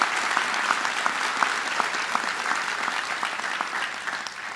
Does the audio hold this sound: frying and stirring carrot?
no